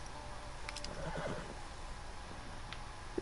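A horse in the video game Red Dead Redemption 2 gives a faint, distant neigh, a short whinny rising out of a steady outdoor ambient hiss.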